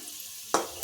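Onions sliced into long strips fry in hot oil: a quiet moment, then a sudden sharp sizzle bursts up and flares again briefly as the pan is stirred.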